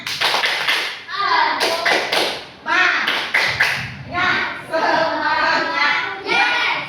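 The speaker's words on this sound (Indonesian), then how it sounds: "Kita tepuk semangat." Children in a classroom perform a rhythmic spirit clap (tepuk semangat), with sharp group claps and taps in a patterned beat alternating with chanted speech from the kids.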